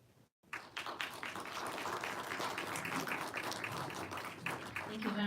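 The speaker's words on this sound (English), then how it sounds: "Another big round of applause to her" An audience at a seminar applauds after a presentation, steady moderate clapping that starts abruptly after a brief gap and continues evenly throughout.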